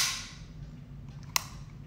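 A Beretta 92X Centurion RDO pistol is dry-fired, giving one sharp, quiet trigger click in an otherwise hushed room.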